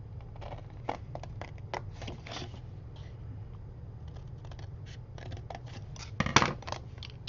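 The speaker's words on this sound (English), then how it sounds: "No mitering, just cut off that top fold that you see." Scissors snipping off the top fold of paper for a handmade mini album, a close, quiet series of crisp cuts and rustles with a brief louder crunch near the end, no voices.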